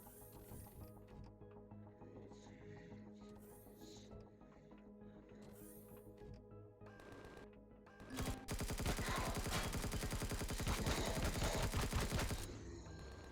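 Assault rifle fire in Empyrion Galactic Survival, a dense rapid burst of loud shots after quieter mechanical clicks and ambient game sounds.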